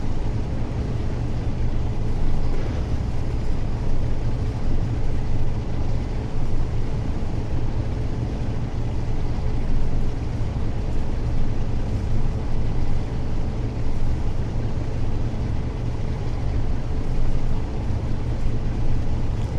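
Class 47 diesel locomotive in a train simulator game, running on a Fife Circle railtour service: a steady, loud, continuous engine drone with rumble and rushing noise, unbroken throughout and with no talk over it.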